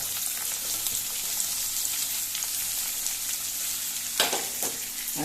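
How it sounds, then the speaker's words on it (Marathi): Garlic and onion fry in hot oil for a Goan-style bitter gourd bhaji, giving a continuous close sizzle with occasional stirring scrapes and a small clatter near the end. "लसूण घातली आनी हे कांदो घालता।"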